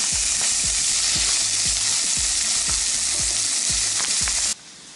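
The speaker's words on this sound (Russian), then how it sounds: "И буду обжаривать лук, а потом туда же добавлю морковь и вместе все обжарю." Onions frying in a pan, a bright continuous sizzle with regular stirring scrapes every half second or so, close and loud, cutting off abruptly near the end.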